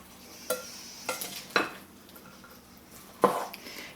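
Dressing being stirred into a corn and tomato salad in a bowl, with four soft clinks and scrapes of a utensil at uneven intervals against quiet background, close but faint, without speech.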